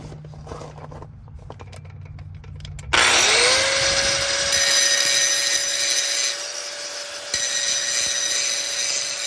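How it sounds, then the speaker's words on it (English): A grinder cuts into a car brake caliper for new wheels on a 2002 Pontiac WS6, starting abruptly after quieter shop noise and holding a loud, steady high whine with a brief dip near the end. "I ended up grinding a heck of a lot off of this caliper."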